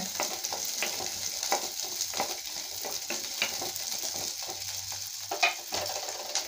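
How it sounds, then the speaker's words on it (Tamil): Onions frying and being stirred in a pan, a steady close sizzle with scattered crackles and occasional scraping stirs throughout, no talking. "வெங்காயத்தை நல்லா பச்சை வாசம் போகிற வரைக்கும் நல்லா வணக்கிக்கணுங்க"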